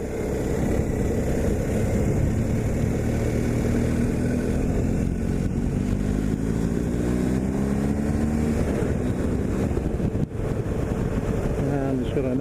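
BMW R1250 GSA motorcycle accelerating on the road, a constant loud wash of wind and engine rumble with a faint rising engine note building through the middle, recorded close and continuous.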